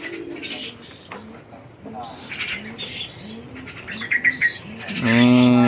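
Birds, including a kanis, call repeatedly with coos and chirps while a person talks nearby; a louder, sustained call rises at the end.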